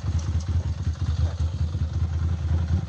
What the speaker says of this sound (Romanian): Oprește motorul!